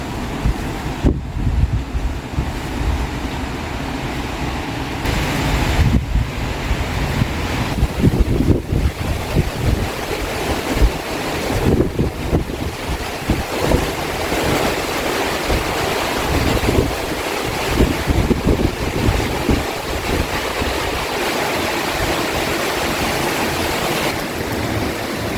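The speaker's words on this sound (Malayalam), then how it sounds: "ഭയങ്കര കാറ്റാണ് പുറത്ത്." Strong cyclone wind roars outside a house during Cyclone Fengal, a loud, continuous buffeting rush with heavy low rumble and gusty surges battering the microphone for the whole stretch, with no voices.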